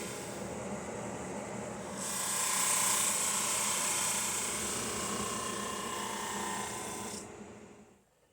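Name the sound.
small power sander running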